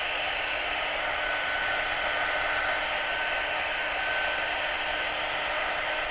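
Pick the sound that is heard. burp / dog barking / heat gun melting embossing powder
heat gun melting embossing powder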